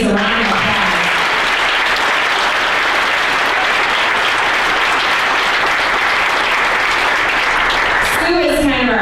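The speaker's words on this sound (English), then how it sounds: "So Sue and Trish, so please a round of applause" Loud, dense applause from an audience at an awards event fills the room steadily for several seconds, with a voice speaking at the start and again near the end.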